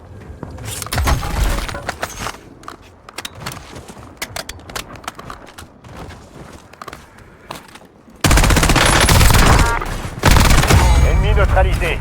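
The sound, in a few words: gunfire in a video game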